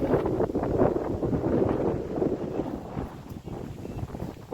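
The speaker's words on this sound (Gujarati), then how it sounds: "અત્યારે તો ફૂલ પવન થઈ ગયો છે" Strong wind gusting across a farm, a loud, constant roar buffeting the microphone close up, swelling and easing slightly over a few seconds with no clear voices.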